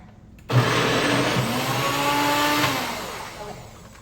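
A blender whirs loudly as it blends hummus with parsley, starting abruptly and holding a steady motor roar that eases slightly toward the end, with no talking.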